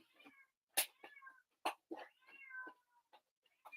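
A pet cat meows repeatedly and frantically, a string of loud, close, wavering cries with short pauses between them and no talking.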